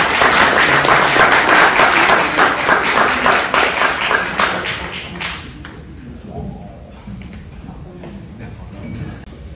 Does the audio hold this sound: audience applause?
yes